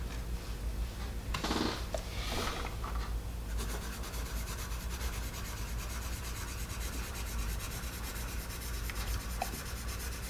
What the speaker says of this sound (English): How quiet that pencil is.